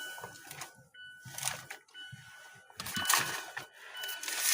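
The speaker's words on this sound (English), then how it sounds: "What is that beeping?" A car seat sensor beeping after an iPad set on the seat triggers it: thin, high electronic tones recur intermittently over rustling and handling noise.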